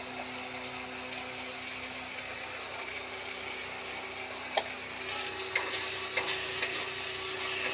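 Chili powder and spices frying in hot oil, a steady bright sizzle with a few sharp spoon scrapes and clicks as they are stirred, close and continuous, no voices.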